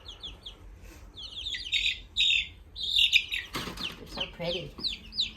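Baby chicks under a heat lamp give repeated high, bright peeps in quick bursts, close and clear. A voice speaks briefly over them.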